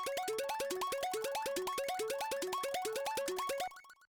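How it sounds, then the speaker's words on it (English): FM synthesizer arpeggio with distortion and grain delay, a fast, even run of bright plucky notes repeating in a cycling pattern, loud and up front, then cutting off with a short delay tail. "what this is it's this little FM ARP"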